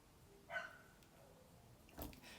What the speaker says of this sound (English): Poor dog out there's not happy.